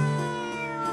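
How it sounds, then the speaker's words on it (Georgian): A single short cat meow, clear and close, heard alone as a sound effect in a sand-art story. "ცოტა ხანში თითქოს ისევ მომესმა კნავილი."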